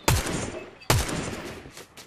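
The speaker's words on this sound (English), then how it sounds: "Wait, he's shooting." Two sharp, loud DMR shots ring out in a video game, the first near the start and the second just under a second later, each trailing off into a short decay.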